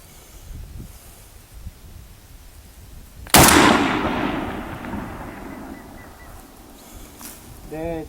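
A single loud report from a K1A submachine gun fired at a 600 m target on an outdoor range, with a long echoing decay, following quieter background noise and someone speaking.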